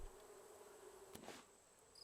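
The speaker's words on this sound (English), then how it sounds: "Bees. Delicious bees." Bees buzzing in the video game Raft, a faint steady hum with a brief sharper buzz passing in the middle, quiet and alone with no talk.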